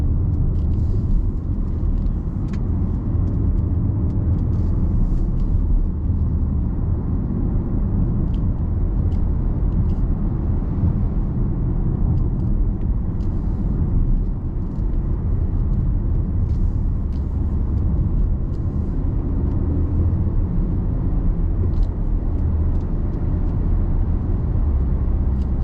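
Cabin of a 2013 Audi SQ5 3.0 BiTDi Tiptronic quattro driving on a smooth road, with a steady low engine and road rumble throughout and little tyre noise. Nobody speaks.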